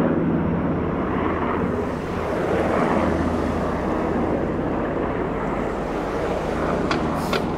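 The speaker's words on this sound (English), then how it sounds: "And there goes the helicopter." A helicopter flying low overhead near the water downtown, a loud steady rumbling roar mixed with wind buffeting on the microphone.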